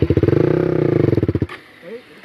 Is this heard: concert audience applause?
no